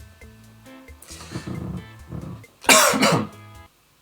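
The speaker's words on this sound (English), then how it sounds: "Just coughed on camera, that's not good." A person nearby coughs, with a few rough throaty bursts building to one loud, harsh cough before it goes quiet.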